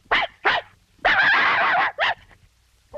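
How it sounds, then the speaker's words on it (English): Dalmatian dogs in a 1961 animated film sound a coded alert: sharp barks and yips framing one long sustained howl, loud and close, with no talking. "One long howl. Two short. One yip and woof."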